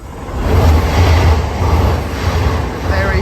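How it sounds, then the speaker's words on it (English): A very fast train roars through a station on the London-bound side, a loud, sustained rushing rumble with rail clatter that stays heavy across the whole pass, with a faint high squeal near the end. "Very fast train going over right here."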